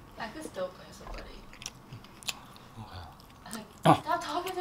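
Close, wet chewing and crunching of a sloppy joe burger during a mukbang, soft squishy bites scattered through the clip, with a louder burst of munching near the end.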